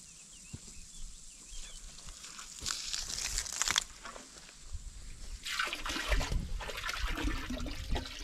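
Water pours and trickles into a cattle drinking trough on a farm, a steady splashing wash that swells louder toward the end, heard alone without voices.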